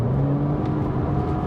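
A Porsche Boxster 987 is driven hard through corners on old country roads, its engine a steady loud drone with a low hum and a faint whir riding on top throughout.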